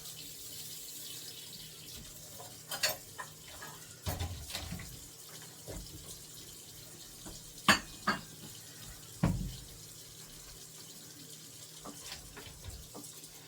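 Tap water running into a kitchen sink while soaked beans are rinsed, a steady low stream with scattered knocks and clinks of a bowl and utensils, heard up close with no talk.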